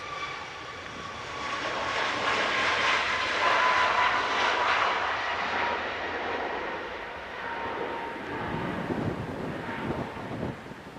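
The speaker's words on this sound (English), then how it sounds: "It's a Boeing 737 MAX off to Nantes." A Ryanair Boeing 737 MAX, operated by Malta Air, departs Manchester Airport for Nantes, its jet roar rising to a peak and then easing off into the distance, moderately loud, with light wind buffeting the microphone.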